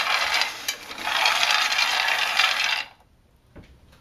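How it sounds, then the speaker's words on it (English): Raw cocoa beans roasting in a pan crackle densely for almost three seconds, then go quiet apart from a few faint isolated pops. "some of the beans will pop, and you'll hear it. Sometimes it's pretty loud. It's like popcorn."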